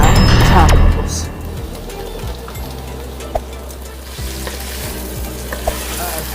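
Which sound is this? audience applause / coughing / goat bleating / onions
onions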